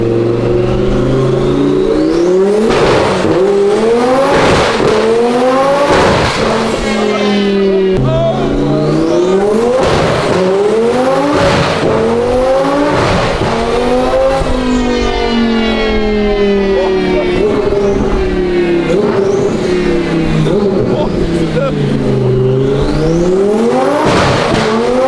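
A tuned Lamborghini Gallardo roars through repeated loud revs and gear changes as it drives off, the engine note climbing and falling in sweeping waves with a harsh, high-pitched wail at the top.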